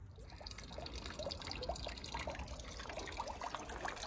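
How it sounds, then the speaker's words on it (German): A garden fountain splashes steadily outdoors, a continuous close trickle and patter of falling water with small drips, no voices. "Brunnen plätschert auch schon."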